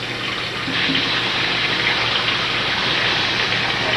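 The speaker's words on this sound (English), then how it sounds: "Let's turn the water on." Water gushing from a newly installed faucet into a wall-hung sink, a steady, loud, close rushing stream that starts abruptly and runs on without pause.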